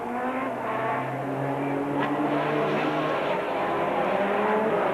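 Racing cars roar past at Brands Hatch during the 1987 1000 km endurance race as a Jaguar is touched at Paddock Bend and goes off, with loud sustained engine drone and tonal whine filling the whole stretch.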